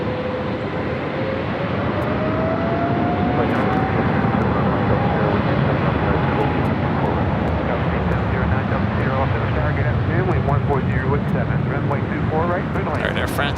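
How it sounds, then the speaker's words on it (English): An Air France airliner rolls down runway 24 left at Los Angeles International Airport, its engine roar loud and steady with a rising whine throughout, while a voice talks over it. "All right, Air France now rolling down to 24 left."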